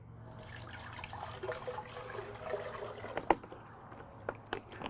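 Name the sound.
water being poured into a blender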